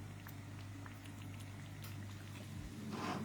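Food bubbling and spattering in a cooking pot on the stove, a faint steady simmer with scattered pops and a soft burst of spatter near the end, with no voices.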